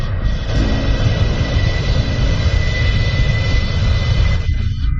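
A plane roars through a steep, rapid descent as a loud, continuous engine rush that cuts off abruptly near the end.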